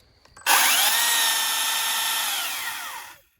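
A Stihl battery-powered chainsaw, an MSA 220-C or MSA 300, starts abruptly and runs at its first speed setting for about three seconds. The whine is loud and steady and close by, then winds down, with no talk over it.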